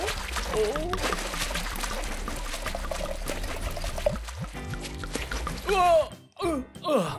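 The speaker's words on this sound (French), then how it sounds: "Juste encore un peu d'eau." Water poured into a container, a steady broad pouring wash filling most of the stretch before ending, followed by a few brief voices and exclamations near the end.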